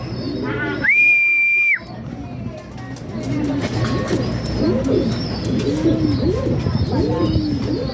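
Racing pigeon named Grisel cooing repeatedly in soft, rhythmic bursts close by, after a brief loud whistle near the start, over steady background noise in a Pagbilao, Quezon loft.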